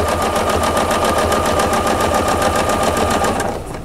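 Domestic sewing machine stitching during ruler-work quilting, a fast, even mechanical chatter at steady mid speed, close and continuous before slowing at the end.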